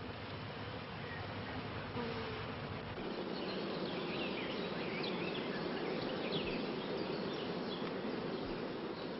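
Honeybees buzz around a hive in a dense, continuous swarm drone, steady and moderately loud throughout.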